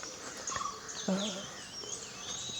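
Birds chirp and call in the morning at a nature homestay in Tillari, a few bright tweets and short phrases over faint ambient noise.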